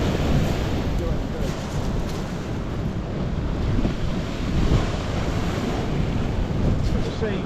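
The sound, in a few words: churning sea waves at the shore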